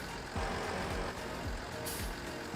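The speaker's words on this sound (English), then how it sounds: "And these tractors are really loud." Loud tractor engines in Farming Simulator 19, a steady heavy mechanical drone with repeating low pulses and an air-brake-like hiss near the end, no voices.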